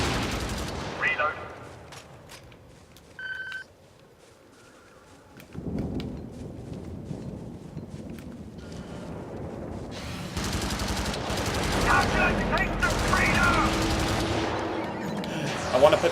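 Gunfire in a video game where players fight Illuminate with demolishers, with scattered shots early, then dense booming bursts and rapid fire building into a loud sustained barrage, with a voice talking in places.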